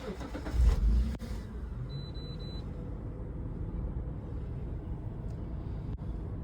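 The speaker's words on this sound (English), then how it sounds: "I'm going to do a warm start here." A 1999 Mitsubishi Pajero Wide Exceed starts warm, with a loud burst of cranking that catches within about a second. The engine then settles into a steady, even idle heard close up.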